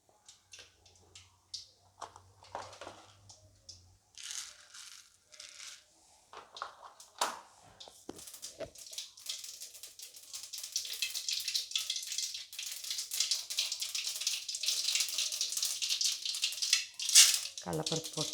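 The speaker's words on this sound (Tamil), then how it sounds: "இப்போ நம்ம கடுகு போட்டுக்கலாம்." Mustard seeds go into hot peanut oil in a pan. A few scattered crackles and pops come first, then they build into a dense, continuous sizzling spatter that grows louder toward the end.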